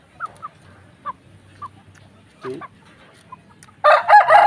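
Pure Asil hens giving a few soft, scattered clucks in a quiet yard, followed by a louder burst of fowl calling near the end.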